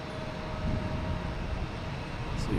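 An Airbus A321neo at Boston Logan Airport, heard as a steady, broad jet engine rumble with a faint whine, fairly distant and continuous, with no talking.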